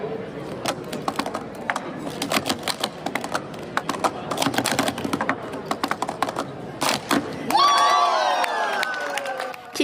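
At a cup-stacking world championship, plastic cups clatter in rapid bursts of clicks, then teammates and the crowd break into loud, sustained cheering and shouting for a world record.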